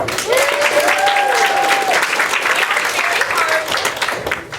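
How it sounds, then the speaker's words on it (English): A theater audience at a Shakespeare show gives loud, sustained applause for the casting director, a thick wall of clapping with a whistle or faint voice cutting briefly through the middle. "give our casting director a big round of applause"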